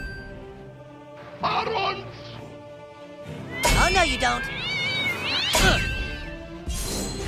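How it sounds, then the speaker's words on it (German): A Nazi zombie cat in the South Park: The Stick of Truth video game gives drawn-out, wavering yowls and meows in a few bursts, loud and close, with game sounds and talk mixed in. "Nazi-Zombie-Katze."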